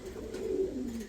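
Plump pet pigeons cooing close by, a steady low murmuring coo running through the whole brief moment with no talking.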